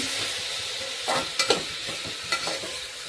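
Chopped onion and tomato fry in a pan with a steady, close sizzle, broken by a few scraping stirs of a spatula across the pan; no voices.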